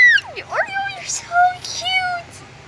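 A cat meows several times in quick succession, the close, clear calls rising and falling in pitch with short gaps between them.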